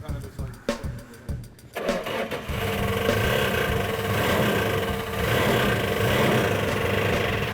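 A repaired car engine, a brand-new motor that had been contaminated with sand, clicks and cranks briefly, then catches and runs at a steady, loud idle close by.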